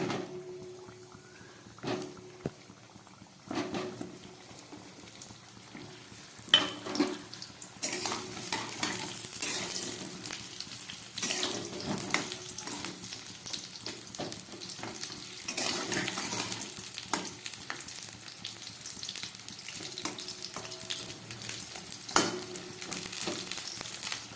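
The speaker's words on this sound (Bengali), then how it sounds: "এবার আমি এই গরম তেলের মধ্যে পটলগুলো দিয়ে দিচ্ছি" Pieces of pointed gourd drop into hot mustard oil in a pan over a medium flame, and a steady sizzle builds and holds. Intermittent clatters and stirring knocks break through it, and no voice is heard.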